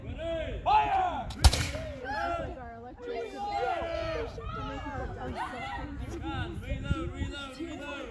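A single sharp musket volley cracks out on command at a farm reenactment, one loud report amid children's voices and chatter that continue around it.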